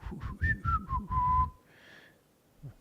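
Someone whistles a short descending tune, several quick notes then a long held one, close and clear, followed by a softer breathy whistle.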